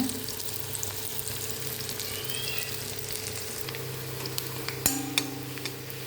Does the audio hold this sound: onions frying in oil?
yes